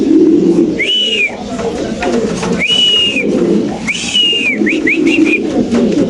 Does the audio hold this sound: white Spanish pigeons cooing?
yes